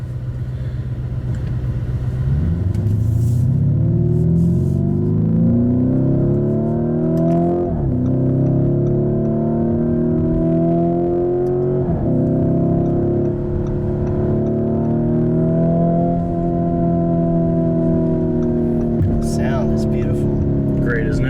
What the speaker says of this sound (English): It definitely sounds like a Lamborghini.